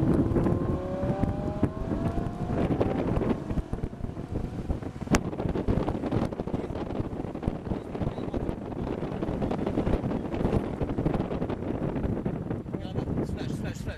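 A Lamborghini Huracan Spider accelerates hard around the Le Castellet circuit, its engine note rising in pitch under heavy wind buffeting, with a voice talking over the steady roar.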